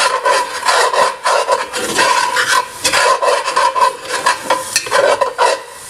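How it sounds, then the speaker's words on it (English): A flat spoon scraping the bottom of a pot of Cajun rice and gravy with pork butt: rapid, rasping scrapes in an uneven rhythm, close and fairly loud, with faint sizzling and no talk. "Scrape all that stuff off the bottom."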